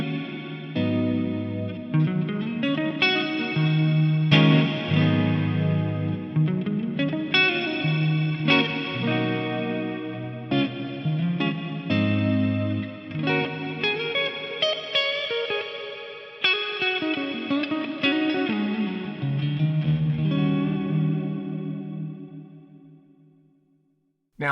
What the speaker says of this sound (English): This is using the multi-tap delay diffuser, and it does kind of sound like a reverb.